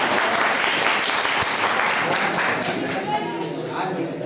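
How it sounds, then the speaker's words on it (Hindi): Students clapping together in a physics classroom, a dense burst of hand claps that gradually thins and fades, with a voice speaking over the later part. "ताली बजा लो, मन हो रहा है।"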